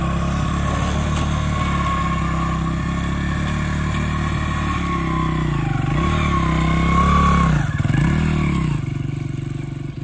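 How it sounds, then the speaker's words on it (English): A dirt bike engine runs steadily in gear while being ridden, its loud, close drone rising and dipping twice with throttle changes, and no one speaks over it. "when you're riding and the bike is on and you're in gear, you'll automatically move."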